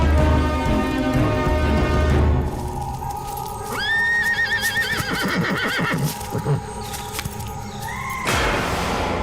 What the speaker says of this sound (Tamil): குதிரை நகர மாட்டேங்குது.